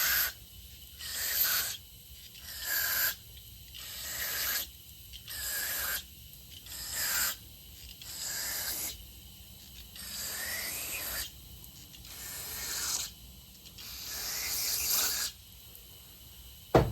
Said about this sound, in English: I go through every hole and I spray it out with carburetor cleaner or brake parts cleaner